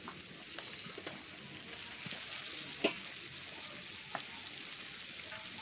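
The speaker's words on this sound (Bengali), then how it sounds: "এখন আমি সেই ধুয়ে রাখা পোলট্রির মাংসটা দিয়ে দিচ্ছি" Washed poultry meat cooking in a pan of turmeric-spiced masala for a pumpkin and chicken dish, producing a soft, low sizzle with an occasional stirring knock and one sharper clink.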